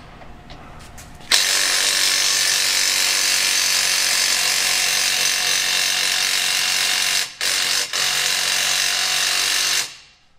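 A Snap-on 3/8-inch stubby impact wrench hammers continuously for about nine seconds on a 21 mm stud lug nut of a ProMaster diesel van, loud and close, with a few brief breaks near the end.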